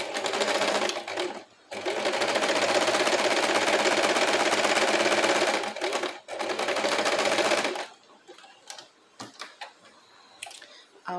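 A sewing machine stitches along the edge of fabric beside the presser foot in long, steady whirring runs with brief pauses, then stops for scattered soft handling clicks near the end.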